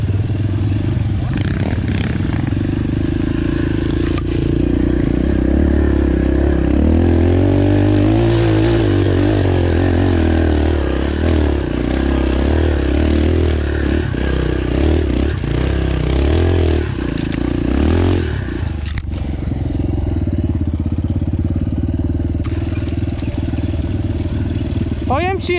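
Yamaha TTR enduro motorcycle running a bald tyre on an off-road track, its engine droning and revving steadily throughout, loud and near, with riders talking over it.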